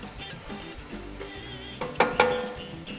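Butter and crawfish cooking down in a pan, a soft continuous sizzle with a couple of sharp utensil clinks near the end.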